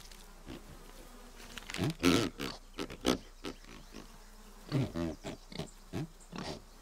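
A pig character in the Tearaway video game gives a series of nasal oinks and grunts in uneven bursts, close and moderately loud, with quiet gaps between.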